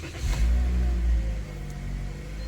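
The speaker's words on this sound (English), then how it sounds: "And you start the engine." A 2022 Toyota Corolla engine catches and settles into a steady low idle rumble, loud and close, with a brief rise in revs at the start.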